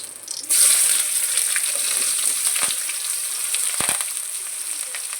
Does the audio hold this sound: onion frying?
yes